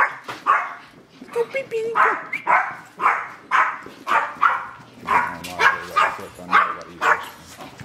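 Excited puppies bark and yip in a rapid, steady string of close, loud barks, while someone talks briefly over them.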